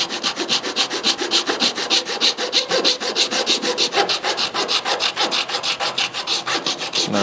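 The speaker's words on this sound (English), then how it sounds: "And I'm using these rasp. It's called Iwasaki rasps, and yeah, it's like very fine." A fine Iwasaki rasp files the wood around a guitar soundhole in fast, steady back-and-forth strokes, about six per second, close and loud with no talking.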